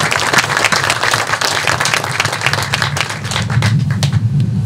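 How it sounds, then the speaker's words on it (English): An audience at a groundbreaking ceremony breaks into applause, a loud, sustained crackle of many hands clapping that carries on steadily for several seconds before thinning slightly at the end. "I want to give you a round of applause"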